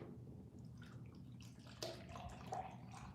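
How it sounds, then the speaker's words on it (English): Water being poured into a glass or cup indoors, a faint trickling splash under a low background hum, with no talking. "I'm gonna pour me some water here."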